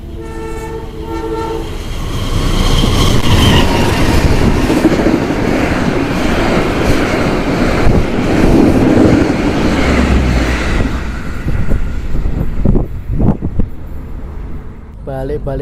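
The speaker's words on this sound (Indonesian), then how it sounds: "Segera berjalan langsung kereta api Logawa." A Logawa passenger train passes through Bayeman station, a loud, close rumbling roar of cars with a horn at the start, then fading into clacks and quieter station noise.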